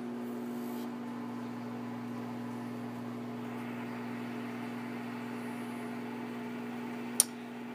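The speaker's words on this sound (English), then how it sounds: "here's my microwave with the Zep sprayed in it. And now I'm gonna let it cook for about 1 to 2 minutes." A microwave oven runs with Zep cleaner sprayed inside, giving a steady, faint hum and whir that holds evenly throughout, with one brief sharp click near the end.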